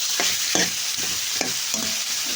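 Tomatoes and green chillies fry and sizzle in a pan while a spoon stirs them in several distinct scraping strokes, close and loud over a steady hiss.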